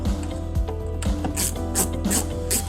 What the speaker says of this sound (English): I gotta screw these in and put them in place